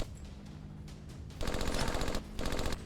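A Nambu machine gun fires in the Pacific beach-defence war game Beach Invasion 1945: two loud rapid bursts of rattling automatic fire, close and dense, after a short quieter stretch with a few faint single shots.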